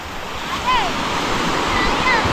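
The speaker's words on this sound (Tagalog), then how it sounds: "Tsaka yung dagat, kalmado talaga." Calm sea waves washing onto a beach where people are swimming, a steady soft wash of surf with wind noise, and faint voices and bird-like calls in the background.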